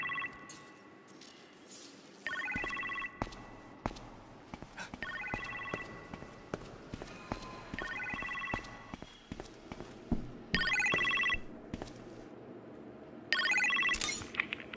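A telephone rings repeatedly in the kitchen in Marvel's Iron Man VR, the moderately loud ring bursts recurring in a steady pattern over faint game ambience, footsteps and mechanical clicks.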